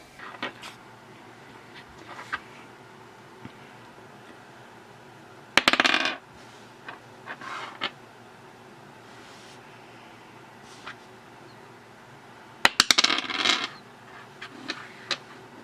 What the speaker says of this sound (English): So, there's the dice roll.